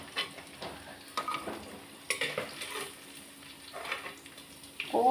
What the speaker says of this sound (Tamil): போதும், ஃப்ரை ஆயிடுச்சு நல்லாவே